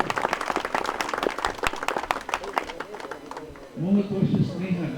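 Audience at a free eye check-up and surgery camp breaking into applause, a dense burst of clapping for several seconds near the mic that fades as a voice rises over it.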